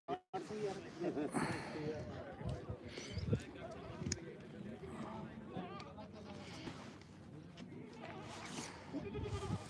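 Goats bleat at the Dhanaula goat market amid a crowd of people talking, with repeated nasal cries rising over the steady murmur of voices and market bustle.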